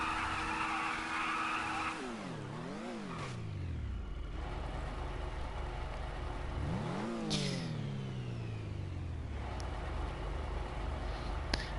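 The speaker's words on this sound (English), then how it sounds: "Yeah, do a nice burnout." Car burnout in GTA Online: engine revs rise and fall in two swooping sweeps while tyres screech and skid continuously, loud and close, with no voices.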